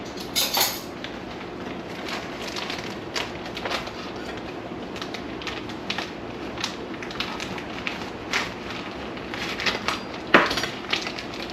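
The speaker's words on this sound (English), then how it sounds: "I'm going to chop up my andouille sausage" Andouille sausage is chopped on a board with a knife, a series of irregular sharp thuds and clicks close by, scattered over a low background hum, with no speech.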